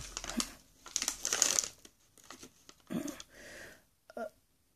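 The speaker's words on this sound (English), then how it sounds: "I can't see because the receipt is all crumpled." A crumpled paper shopping receipt crinkles and rustles in bursts as it is handled up close, with short pauses between the crackling handfuls.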